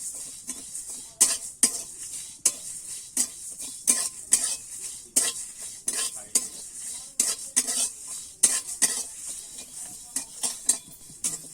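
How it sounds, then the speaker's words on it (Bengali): Spice masala frying in a pan for olive pickle sizzles softly beneath repeated scraping strokes of a spatula against the metal, a rhythmic series of close, sharp stirring scrapes with no speech. "আমার মশলাটা কিন্তু ভাজা হয়ে গেছে"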